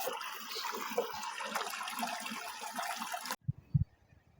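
A small trickle of mountain water in the Volovské Mountains of Slovakia, a steady bright splashing flow close by that cuts off abruptly, leaving a few low knocks and faint rustles.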